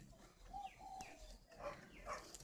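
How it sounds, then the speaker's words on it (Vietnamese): Soft, low turtle dove coos repeat a few times at a distance, with faint chirping birds and outdoor ambience around them, at a dove breeding farm in Ba Vi, Hanoi. "chim của mình nó gáy đó"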